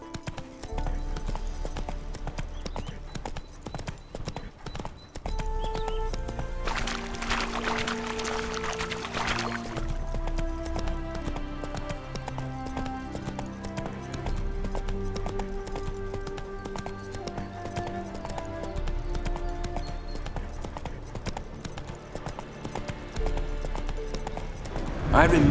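Rhythmic hoofbeats of a galloping horse in a video game keep up a steady clip-clop over a continuous musical backdrop.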